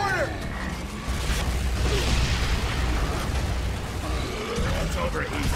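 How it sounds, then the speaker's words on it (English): A mortar round bursts in Gears of War 3 combat, a heavy rumbling blast that sits amid ongoing battle noise and clanking mechanisms with voices over it. "No mortars! Run inside! Mortar!"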